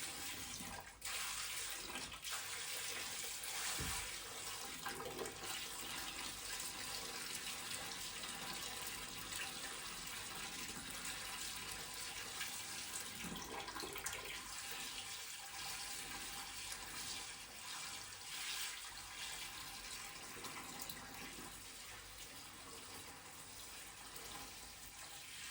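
Saltwater pours from a bucket into an aquarium in a steady, rushing splash that continues unbroken, close and fairly loud with no voices.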